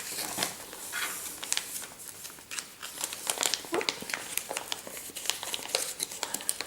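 Adhesive plastic cover film crackles and crinkles as it is pressed onto a school book, a close run of irregular sharp rustles and crinkly snaps.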